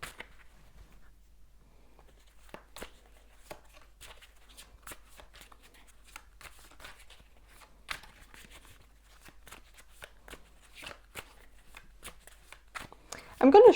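A deck of tarot cards is shuffled by hand, with scattered crisp ticks and soft slaps close by, ending in a brief louder riffle.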